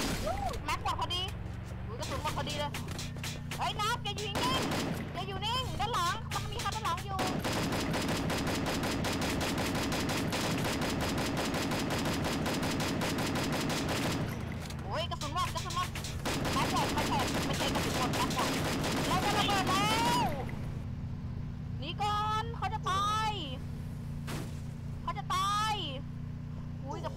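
Gunfire in the Free Fire video game: loud, sustained bursts of rapid automatic shots, with brief pauses between volleys and excited talk before and after.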